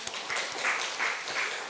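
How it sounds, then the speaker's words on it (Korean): A church congregation at a Sunday morning service gives a short, moderate round of clapping that swells in a few soft waves. "박수."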